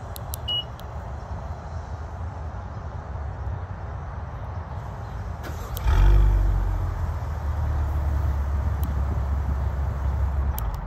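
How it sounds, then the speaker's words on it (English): A 2023 Acura TLX Type-S with a 3-liter V6 starting remotely: after a quiet stretch with small beeps, the engine catches with a loud low roar and then settles into a steady, rumbling idle. "it is great to hear that 3-liter V6 clear its throat"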